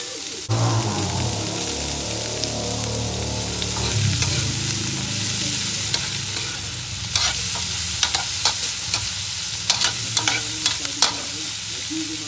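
Carrots stir-frying in a hot pan for pancit bihon and canton, a steady close sizzle and hiss with scraping stirs and several sharp utensil clicks against the pan toward the end, no talking.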